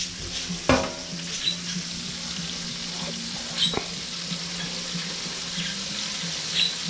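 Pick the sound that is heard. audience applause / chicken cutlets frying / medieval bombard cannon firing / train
chicken cutlets frying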